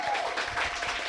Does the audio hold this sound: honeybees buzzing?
no